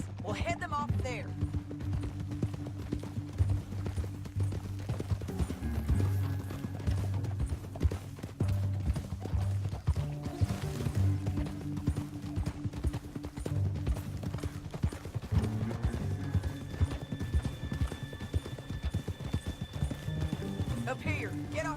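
Horses gallop in Red Dead Redemption 2, a steady clip-clop of hooves with occasional whinnies running beneath a lively game score, while people talk over it.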